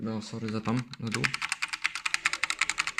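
Rapid typing on a Genesis Thor 300 TKL RGB keyboard, a fast even run of close, sharp key clicks that starts after someone speaks briefly.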